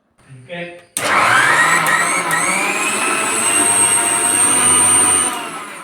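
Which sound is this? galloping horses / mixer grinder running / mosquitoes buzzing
mixer grinder running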